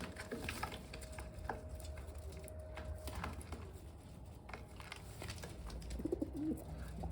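Homing pigeons coo softly in a quiet, low-level scene, with gentle rolling calls over faint background rustling and occasional light knocks.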